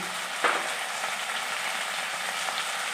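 Turmeric and ginger-garlic paste frying in hot oil, a steady close sizzle with a brief louder spit near the start, continuous and without voices.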